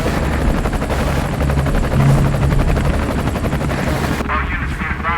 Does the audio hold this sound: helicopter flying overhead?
yes